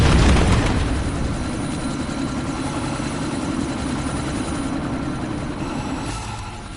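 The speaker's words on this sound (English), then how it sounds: "That chopper's about to take off!" A helicopter in the video game Deus Ex: Mankind Divided takes off with a loud, continuous rotor and engine roar that stays steady and eases slightly over several seconds, with no speech.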